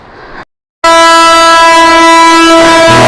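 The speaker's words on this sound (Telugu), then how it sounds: "goods train" A goods train hauled by engines passes close by, its loud sustained horn blaring after a brief silence over a dense rolling rumble.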